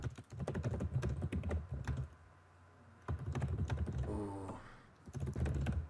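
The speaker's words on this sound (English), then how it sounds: "fast typing there" Rapid typing on a computer keyboard, dense bursts of clacking keystrokes with a brief pause in the middle, close and fairly loud, with no voices.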